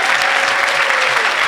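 A church congregation at a healing service bursts into sustained applause, dense steady clapping from a large crowd with no pauses.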